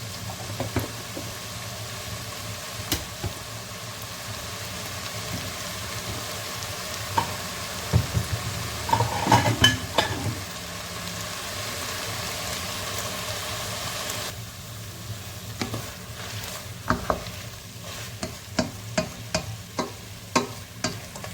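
Food sizzles steadily in a pan at moderate level throughout, with occasional stirring scrapes and sharper clicks, heaviest midway and toward the end, with no talking.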